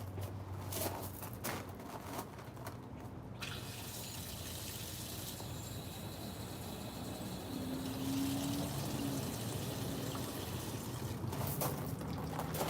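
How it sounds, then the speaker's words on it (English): Water being poured into a water bottle, a soft continuous liquid trickle and splash running steadily for several seconds at a low, close level, with a few light handling knocks, no talking. "I'm just adding some water to this water bottle."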